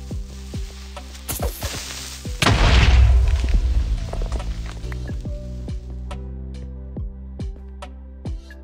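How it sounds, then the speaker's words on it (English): A creeper explodes in a survival video game set in caves, a single heavy boom that rolls off slowly amid scattered clicks and ticks. "Did I hear an explosion? Yeah, a creeper blew up."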